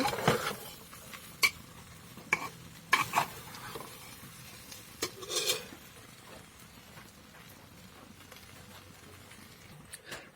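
Kesuri frying in a pan, with a steady low sizzle broken by sharp clinks and scrapes of a utensil stirring, busy in the first six seconds and then quieter, with only a last clink near the end.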